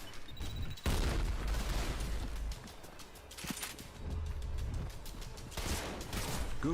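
A distant, muffled grenade blast in a video game, followed by bursts of rapid gunfire and scattered shots, with rumbling booms recurring across the fight.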